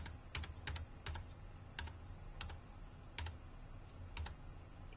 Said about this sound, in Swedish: Då tar jag bara backspace på tangentbordet.